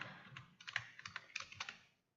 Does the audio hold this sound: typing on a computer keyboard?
yes